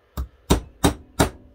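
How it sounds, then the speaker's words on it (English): A brass hammer strikes a pin into the bolt of a Browning Auto 5 12-gauge shotgun, four sharp, evenly spaced taps about a third of a second apart, close and loud with nothing else heard. "I'll take a brass hammer"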